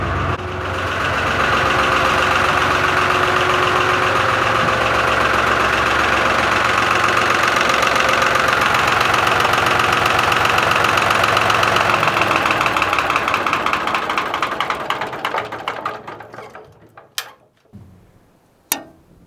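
A Lister cold-start diesel in a boat's engine room idles with a steady, knocking chug, loud and close, then runs down and stops near the end, leaving a few sharp clanks.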